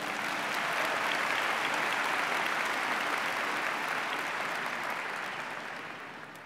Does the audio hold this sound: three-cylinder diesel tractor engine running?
no